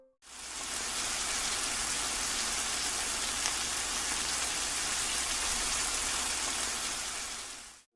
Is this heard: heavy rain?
yes